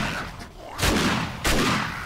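Two loud, close shotgun blasts in the 7 Days To Die survival game, each a sharp broadband crack with a short decaying tail, spaced about half a second apart.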